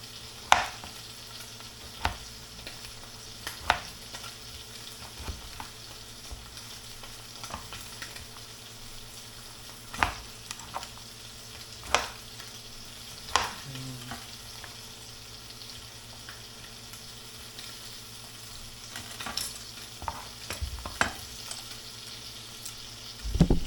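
Food sizzles quietly and steadily in a pan, with occasional sharp clinks and scrapes of a utensil stirring and tapping.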